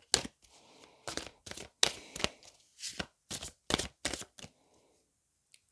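Tarot cards being shuffled and drawn, a series of crisp, close card riffles and slaps in quick bursts with short pauses between.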